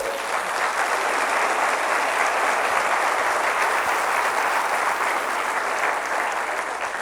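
Steady, dense applause from a church congregation during a Spanish-language sermon, many hands clapping continuously at an even level throughout, with no break or talking heard.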